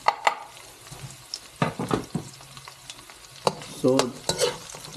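Garlic and onions fry in a pan with steady sizzling and frequent stirring strokes and scrapes of a utensil, close and fairly loud; a voice speaks a single word briefly.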